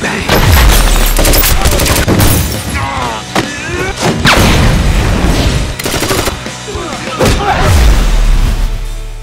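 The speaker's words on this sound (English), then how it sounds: "Light him up!" Machine-gun fire in an action movie teaser, with loud sustained bursts and heavy booms and impacts across the whole clip, mixed with music and brief shouted voices.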